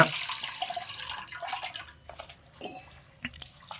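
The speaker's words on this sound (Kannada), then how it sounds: "ನೀಟಾಗಿ ನೀರಲ್ಲಿ 2ರಿಂದ 3 ಸತಿ ನೀಟಾಗಿ ತೊಳ್ಕೊಬೇಕಾಗುತ್ತೆ" Flattened rice (avalakki) is washed in water, with irregular splashes and drips from the stirring that fade off toward the end, close up and without talk.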